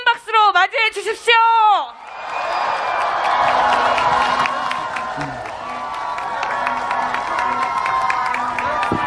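A big outdoor crowd at a Namyangju campaign rally for presidential candidate Lee Jae-myung bursts into loud cheering and applause after a brief amplified announcement, sustaining a dense roar of claps and shouts until the end.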